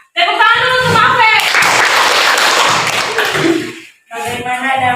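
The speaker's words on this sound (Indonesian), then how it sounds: "Tepuk tangan dulu untuk Mafe" A classroom claps for a student, a dense burst of many hands lasting a couple of seconds, set between a teacher's spoken lines before and after.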